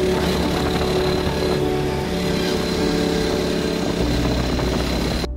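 An auto rickshaw engine runs steadily near an airport in Raipur, a loud continuous mid-pitched drone and rattle that holds evenly for several seconds before cutting off abruptly at the end.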